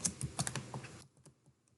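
Brief burst of typing on a computer keyboard as a search term is entered: a quick run of close, clicky keystrokes that tapers into a few softer taps.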